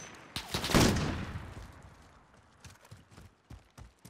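Gunfire in the video game Modern Warfare (2019): a loud close burst of automatic fire, then scattered fainter shots and impacts trailing off.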